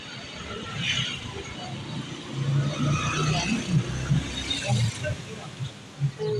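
A tricycle engine rumbles past in front of a church, a low mid-pitched motor that rises and falls over several seconds amid street noise, with voices talking over it.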